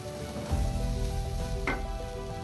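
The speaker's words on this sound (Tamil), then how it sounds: "இதை லைட்டாக ஃப்ரை பண்ணிக்கலாம்" Chopped onion and red chilli sizzle steadily in a hot pan while cooking spinach poriyal, a dense continuous fry with a brief scrape of stirring partway through, close and fairly loud.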